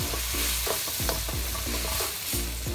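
Beef lung sambal simmering and frying in a pan, with a steady sizzle throughout and repeated scraping stirs of a spoon against the pan, fairly close.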